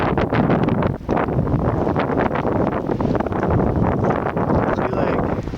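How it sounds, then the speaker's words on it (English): Strong wind buffets the microphone in heavy, continuous gusts by a lake, a loud rumbling roar with no voices. "Really windy today."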